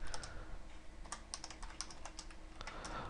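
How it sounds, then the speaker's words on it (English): Someone types at a computer keyboard nearby, tapping in quick irregular bursts with short pauses, faint and alone with no talk. "let me finish typing this out here"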